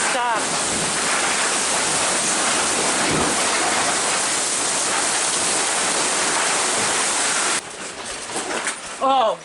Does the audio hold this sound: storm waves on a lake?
yes